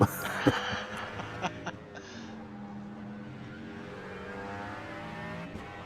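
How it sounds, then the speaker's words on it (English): A V8 race car engine in a video game roars steadily, its pitch rising and falling as it revs, with voices talking over it. "Listen to the roar of that V8"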